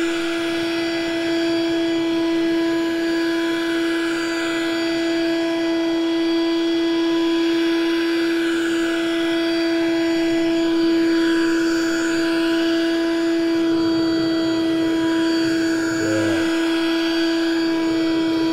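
A Bissell Pet Stain Eraser PowerBrush carpet cleaner, with its agitator switched off, sucks spilled apple juice out of carpet as a loud, steady motor whine with a strong constant tone, plus a brief gurgling pulse near the end.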